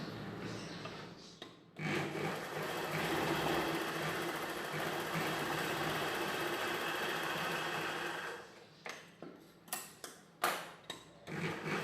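A sewing machine stitches chudidar pant cloth, joining the cut pieces. Its steady whirring runs for about six seconds, then gives way to a few separate clicks and taps.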